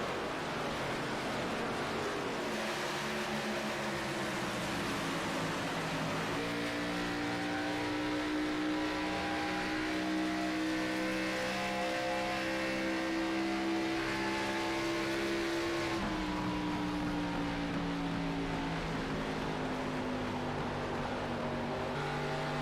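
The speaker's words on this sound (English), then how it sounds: "You can hear those tires scream." Race cars at Pocono Raceway in a racing video game roar steadily at full speed, engine pitch holding and shifting across long stretches with a constant wash of tire and road noise, loud and continuous throughout.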